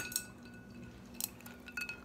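Ice cubes dropped into a wine glass of chilled Apothic Brew, giving a few sharp, bright clinks spaced out over a quiet background.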